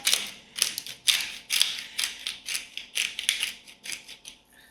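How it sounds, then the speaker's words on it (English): A grinder cracks salt and pepper over roast vegetables for penne pasta, producing about ten quick, crisp ratcheting bursts in a steady rhythm, close and fairly loud, with no talking. "we're going to season with the generous grind of salt and pepper."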